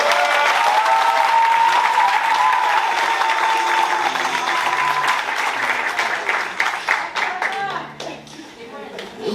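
A church congregation at a baptism service applauds in a long, loud, sustained wave that thins out toward the end, with a singing or sustained voice and scattered crowd voices mixed in.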